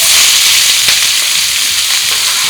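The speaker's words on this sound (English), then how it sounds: "We're just gonna go caramelize onion first." Onion frying in hot oil in a pan for a lamb rogan josh, a loud steady broadband sizzle throughout with a faint clatter near the middle.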